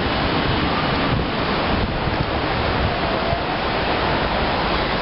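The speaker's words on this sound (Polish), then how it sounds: "woda już zaczyna się wdzierać nawet dalej." Floodwater from the swollen Vistula river surging through flooded streets near Kazimierz in Kraków, a steady, loud, broadband rush of water mixed with wind buffeting the microphone, continuous throughout with no voices.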